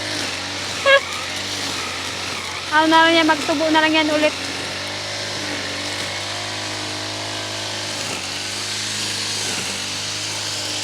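A grass cutter's engine drones steadily in the background as it cuts grass, moderately loud and continuous, while someone talks over it in short bursts.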